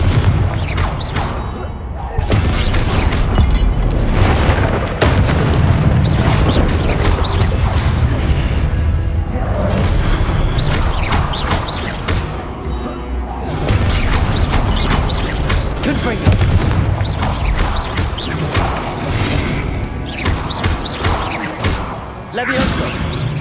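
Confringo blasting spell explosions in Hogwarts Legacy, with repeated loud booms and crashing impacts amid steady combat clatter and mechanical clanks, while spoken voices break in at points.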